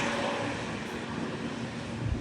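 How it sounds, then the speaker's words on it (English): JetBlue Airbus A320 in Super Mario Brothers livery with Pratt & Whitney 1100G engines roaring at San Juan airport, a steady loud broadband jet rumble with wind noise, no talk. "let's listen into those Pratt & Whitney 1100G engines roaring"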